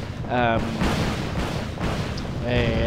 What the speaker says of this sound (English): There you go, that's the cannon shooting.